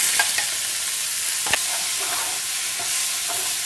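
Garlic and chillies fry in hot oil with a steady sizzle as ground masala goes in, punctuated by a few sharp scrapes of a spoon stirring the pan, close and clear.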